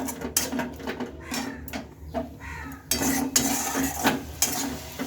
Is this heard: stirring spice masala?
yes